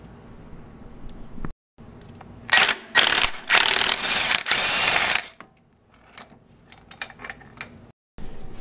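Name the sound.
impact wrench removing Honda Prelude drive pulley bolt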